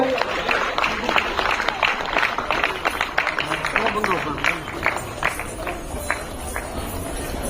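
An audience claps for a guest being welcomed onto the stage at a Karnataka government children's award ceremony at Suvarna Soudha, Belagavi, a continuous rattle of applause under loud talk from a presenter.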